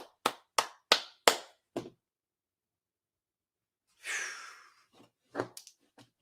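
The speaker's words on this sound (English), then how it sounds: "Everybody give them a round of applause." Five or six sharp, evenly spaced hand claps sound close and crisp, followed by a breathy exhale and a few faint taps in near silence.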